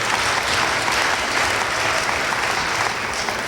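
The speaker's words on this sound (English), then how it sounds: "thank you for your applause nevertheless" A large audience at a Newark State of the City address breaks into steady, dense applause, many hands clapping at once in a sustained even roar across the hall, with no speech on top.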